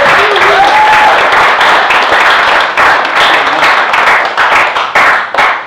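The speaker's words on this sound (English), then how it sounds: "if we could start the applause in the corner, and then if we could bring it right the way through" An audience welcoming a performer at a roastery opening with loud, sustained applause: dense clapping, close and continuous throughout, easing slightly toward the end.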